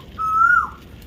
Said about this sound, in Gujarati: મસ્ત બોલે કોયલ